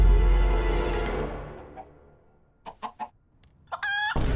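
Chicken clucking in an animated film scene, a few short sharp clucks followed by a rising squawk, heard close and clear after a fading musical sting.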